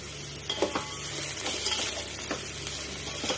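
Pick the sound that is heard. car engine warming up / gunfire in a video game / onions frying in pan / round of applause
onions frying in pan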